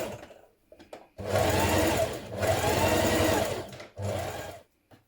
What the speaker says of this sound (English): directly beside that we're going to stitch again